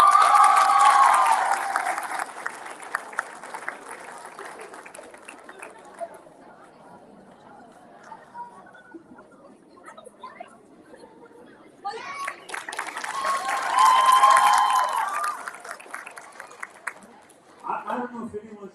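A school graduation crowd breaks into applause and chatter twice, in a loud burst at the start and again mid-clip, with quieter murmuring and voices between.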